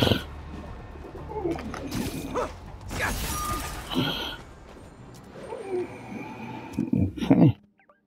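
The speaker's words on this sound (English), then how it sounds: "There it is, there's the next pigeon." Pigeon cooing in Marvel's Spider-Man Remastered, soft bird calls mixed with mechanical clicks, shattering bursts and other game effects, with a voice talking over parts of it.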